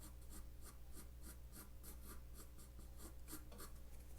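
Drawing letters on paper and rounding off a corner, with pencil strokes scratching in a steady series of faint, evenly spaced rubs over a low constant hum and no talk.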